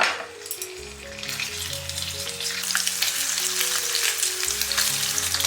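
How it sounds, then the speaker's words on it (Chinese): Pork belly fries in hot oil in a wok, a strong close sizzle that swells and crackles continuously over soft background music. "把五花肉煸到金黄"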